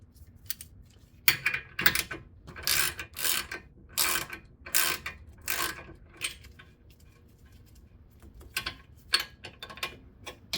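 A ratchet spins a nut off the front axle of a 2008 Acura MDX, producing rapid bursts of sharp metallic clicking in quick, uneven runs with short pauses between them.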